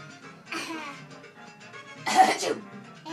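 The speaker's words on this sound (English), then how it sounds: "He's coughing." A one-year-old toddler fakes a short burst of coughing and sneezing sounds at close range, with adults talking and reacting nearby.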